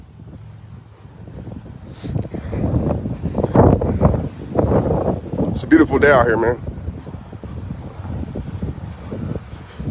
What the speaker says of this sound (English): So this wind can die down, because I want y'all to hear this part.